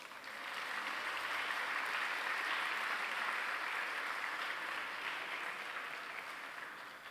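Sustained applause from a seated audience after a team's oral presentation at an environmental student competition, steady broadband clapping at moderate volume throughout, fading slightly at the end, with no speech over it.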